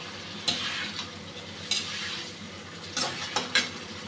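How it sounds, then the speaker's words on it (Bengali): Fried eggplant is stirred into sizzling mustard paste in a pan, giving a low continuous fry under several distinct scraping stirs and spatula clatters spaced through the few seconds. "এখন ভাজা বেগুনগুলা দিয়ে দিলাম।"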